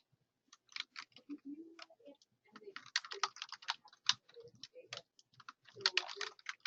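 Typing on a computer keyboard while filling out a bowling team registration form, a close run of quick key clicks in bursts and pauses, with faint low murmurs underneath.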